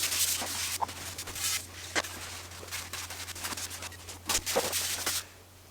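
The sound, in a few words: wiping down a Peloton exercise bike with a cloth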